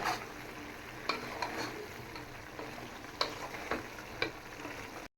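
A spoon scrapes and stirs through chickpea dal in a pot, with soft clicks and knocks against the sides over a quiet sizzle.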